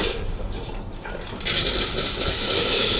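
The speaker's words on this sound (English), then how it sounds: "we're going to hold down the trigger for a good 30 seconds to a minute to vent the new decalcification cartridge" A Karcher SC3 steam cleaner vents through a newly fitted descaling cartridge: a muffled watery gurgle gives way halfway through to a louder, sustained rushing hiss.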